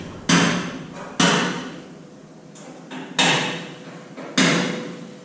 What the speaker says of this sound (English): you're going to take a center punch and you're going to center punch the spot welds